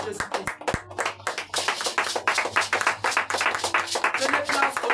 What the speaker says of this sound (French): Acclamons la parole de notre Seigneur Jésus-Christ